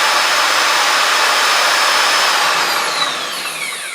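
A Rover P6 LT77 gearbox, filled with oil, is spun over by a loud, steady whirring whine that holds, then eases down in pitch and volume as it winds down.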